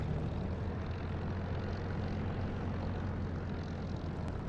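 A simulated aircraft engine roars at heavy throttle in a flight simulator game, a dense steady drone with a low hum underneath, loud and continuous with no voices.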